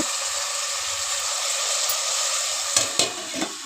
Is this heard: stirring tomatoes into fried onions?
yes